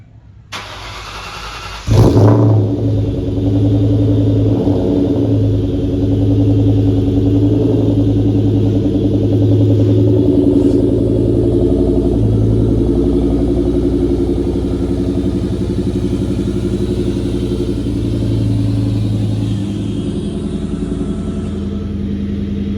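2003 SVT Cobra Terminator Mustang engine cranking and catching with a sharp burst, then settling into a deep, loud, rumbling idle and low drive that continues steadily close by.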